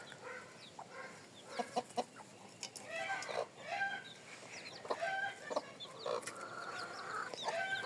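Several hens, including a Leghorn, cluck and murmur nearby in short, uneven bursts, with occasional sharper squawks and no talking.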